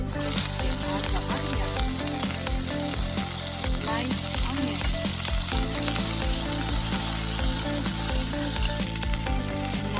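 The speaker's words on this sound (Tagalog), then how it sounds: "stir fry until the garlic is lightly brown" Garlic stir-frying in a hot pan for pork eggplant binagoongan, a loud, steady sizzle that runs without break, with the scrape and clatter of stirring coming through now and then.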